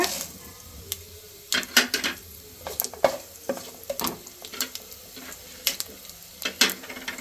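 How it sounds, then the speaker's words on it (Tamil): Fennel seeds and black peppercorns fry in hot oil in a pan for a crab curry, giving a steady close sizzle broken by repeated scraping stir clicks, with no talking. "எண்ணெய் காஞ்சோடனே சோம்பு போட்டுக்கோங்க மிளகு போட்டுக்கோங்க"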